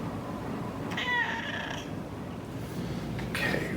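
A cat meows twice, a clear drawn-out meow followed by a shorter second call, close by over a low steady background.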